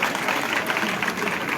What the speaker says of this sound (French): Applaudissez nos mamans.